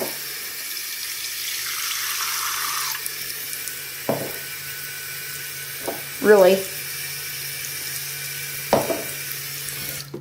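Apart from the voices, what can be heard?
water from a tap filling a bowl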